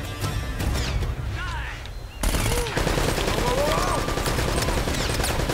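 Rapid gunfire in Uncharted: Drake's Fortune during a fortress fight, with dense bursts of shots close by, a brief lull, then a louder sustained barrage, with some voices in the mix.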